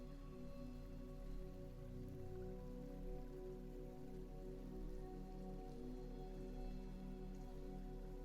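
Steady rain patters onto the surface of a lake, a dense, unbroken wash of drops at low, even volume. It is alone, with no voices.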